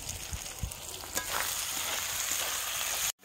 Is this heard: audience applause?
no